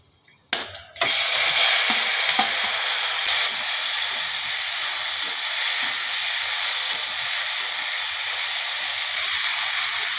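Pieces of elephant apple go into hot oil spiced with five-spice seeds, setting off a sudden loud sizzle after a couple of clatters, then a steady close crackling hiss that holds throughout.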